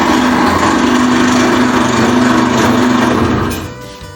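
A drill press motor hums steadily at close range, a loud mechanical whine that winds down near the end.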